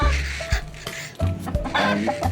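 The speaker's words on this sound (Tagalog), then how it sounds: "manok nga pala ng tito ko yan G" Backyard chickens in a pen clucking and calling in short, repeated bursts at close range, fairly loud, with no talk over them.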